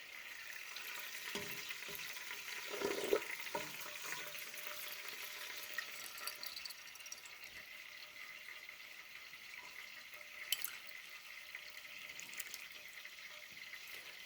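Clarified butter (ghee) trickles through a strainer into a jar, a faint, steady soft trickle and patter with a few light clinks, close and quiet with no talk.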